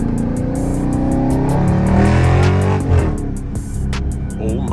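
A Dodge Charger SRT engine revs hard toward redline from inside the cabin, loud and steady with rising harmonics and a sharp shift-like drop near the end, then settles back to a throaty idle roar.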